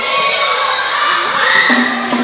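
Spectators at a Cowboys vs Cavaliers match yell and cheer in a loud, dense crowd roar, with individual shouted calls standing out toward the end.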